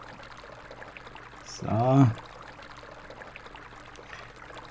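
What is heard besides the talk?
pouring water on plants in video game Weed Farmer Simulator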